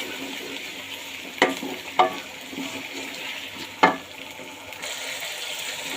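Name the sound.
ginger and garlic frying in a pan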